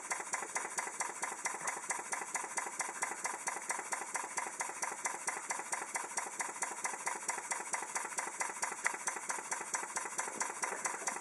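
A vertical steam engine with an overhead gantry ticks over steadily, its fast, even mechanical beat continuing without a break. A faint airline hiss sits underneath the running engine.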